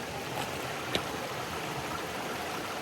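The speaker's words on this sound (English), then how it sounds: "So I can hear the creek now." A creek flows through rainforest with a constant broadband rush of moving water, fairly soft and steady, with a single brief tap or splash near the start.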